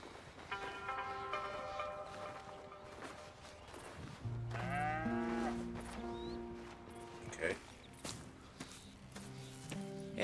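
Cows moo in Red Dead Redemption 2 at a ranch, giving a few long, drawn-out low calls that blend with music and game sounds, with a voice speaking briefly.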